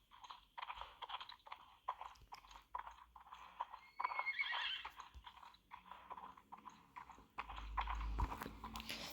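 A draft horse trots under a rider at a sitting trot, giving soft, rhythmic hoof and tack sounds that are fairly faint, with a louder rumble near the end.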